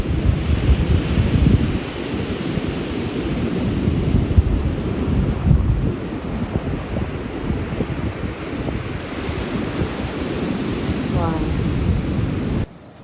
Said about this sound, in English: Those waves look really good fun.